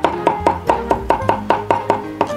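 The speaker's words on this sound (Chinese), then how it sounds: "把它剁碎" A knife chops sauce ingredients on a cutting board, about eleven sharp, evenly spaced strikes in quick steady rhythm, close and clear with no talking.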